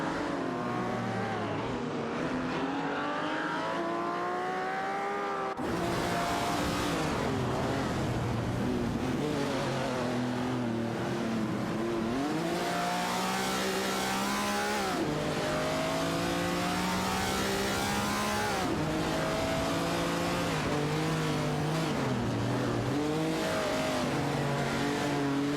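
Race cars accelerating on a track in a racing video game, engines revving loudly and continuously with rising and falling pitch as the cars jockey for position, no talk.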